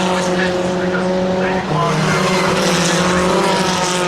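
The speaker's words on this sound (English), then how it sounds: "David Wild now starting to put the pressure onto Simon Toyne as they turn into clearway" Historic Formula Ford 2000 single-seaters racing at Brands Hatch circuit, several engines droning loudly together in a steady close pass with a brief dip and shift in pitch as they turn, continuous and unbroken throughout.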